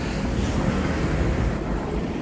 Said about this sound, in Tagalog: presko yung hangin.